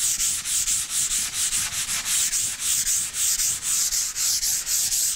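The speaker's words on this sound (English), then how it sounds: "Go with the grain when you sand." Back-and-forth strokes of sandpaper rubbed along the grain of a raw timber shelf, a loud, steady rasping rhythm of about three strokes per second, close up with no speech.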